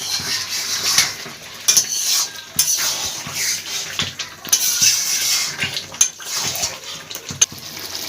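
Chicken and pre-fried yam pieces stir-fried together in a pan, with loud metallic scraping and clanking of a ladle against the pot over a background sizzle, close by and without speech.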